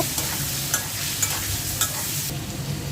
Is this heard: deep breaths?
no